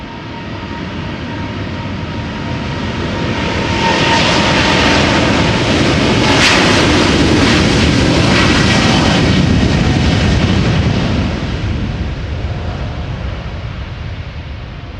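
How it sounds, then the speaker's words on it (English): A 19-year-old KLM Boeing 777-200 airliner takes off at Amsterdam Schiphol, its jet engines building into a loud, broad roar that peaks mid-pass and stays strong as it continues, with no talking. "next airplane is going to be this 777-200 KLM Flight 743, destination Lima in Peru."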